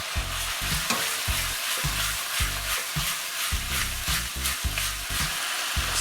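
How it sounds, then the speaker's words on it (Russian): Turkey pieces frying in a pan with onion and carrot, sizzling steadily and loudly up close, with frequent rhythmic scraping bursts as the mixture is stirred. "нашу индейку нам нужно обжарить на сковородке вместе с лучком и морковкой"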